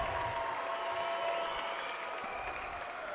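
A packed gym crowd applauds at a 2019 Iowa girls' 5A state volleyball semifinal between Cedar Falls and Ankeny, a continuous wash of clapping and cheering that holds steady throughout.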